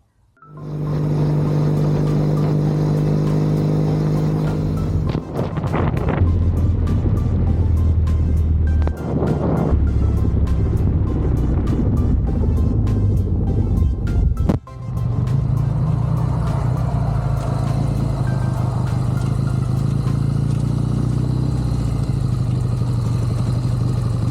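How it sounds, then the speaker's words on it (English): Classic Triumph Bonneville T120 and T140 motorcycles riding out together, their steady engine drone loud and close throughout, with gear changes and rising and falling revs and a brief dip near the middle, no talking. "I'm meeting up with Simon, my wingman, for our first ride out with our Bonnevilles"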